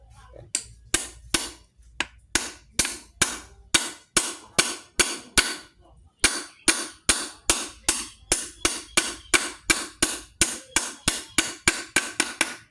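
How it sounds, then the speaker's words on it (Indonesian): A hammer striking the outer race of a Vespa Super wheel bearing during installation, dozens of sharp metallic blows in a steady, even rhythm, close and loud, with one brief pause near the middle. "Kita pukul bagian luarnya sini ya, jangan tangannya ini ya."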